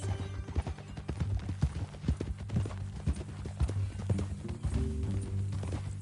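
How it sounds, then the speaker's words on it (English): Horse hooves clip-clop in the video game Red Dead Redemption, a brisk, uneven run of close, loud hoofbeats with a brief neigh, over a low background hum. "That new horse?"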